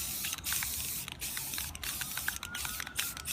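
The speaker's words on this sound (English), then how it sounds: "you only do it in small motions back and forth" A spray can hisses out paint and primer onto a pumpkin in short, repeated bursts, several quick back-and-forth passes heard close and fairly quiet.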